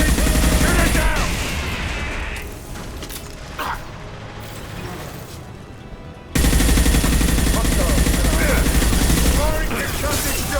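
Concussive shot and gunfire in the video game Mass Effect, heard as loud, dense bursts of shots and mechanical clatter that fill the clip, with a brief quieter stretch midway and voices talking under the noise.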